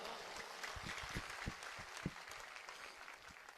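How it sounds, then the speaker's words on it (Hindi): Steady, dense clapping from a crowd at a Bageshwar Dham religious discourse, fairly faint and distant, with a few sharper claps standing out. "पहले तो इनकी सेवा के लिए ताली बजाओ जोरदार।"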